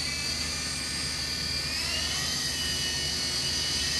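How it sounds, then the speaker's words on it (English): E-flite Blade MSR RC micro helicopter whirring steadily in flight nearby, a continuous high-pitched motor and rotor whine that shifts slightly in pitch, with no voices. "Alright, so the first flight on the Blade MSR."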